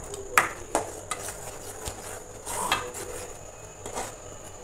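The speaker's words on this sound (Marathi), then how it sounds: "तर आता आपण याला मिक्स करू." Ginger garlic paste being mixed into butter chicken in a pan: a few scraping stirs and utensil clicks against the pan over a faint background, with no talking.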